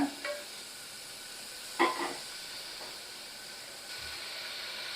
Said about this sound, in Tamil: ஒரு ஒரு நிமிஷம் வரைக்கும் நல்லா வதக்கி விட்டுக்கோங்க